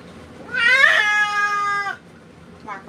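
A cat with a lion cut, at a grooming session, lets out a drawn-out, wavering yowl close by that sounds much like a crying baby. A softer, shorter meow follows after a pause.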